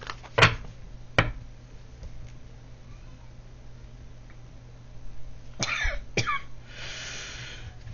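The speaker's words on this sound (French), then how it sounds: "Pourquoi tu tousses comme ça, ma chérie?" A few sharp coughs, two near the start and another pair later, over a quiet indoor background with a soft hiss toward the end.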